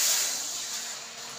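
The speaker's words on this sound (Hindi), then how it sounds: "अब इसमें पानी डालेंगे।" Water is poured into a kadhai on a village cooking fire, a steady hissing pour that is loudest at the start and slowly eases off, with no voices.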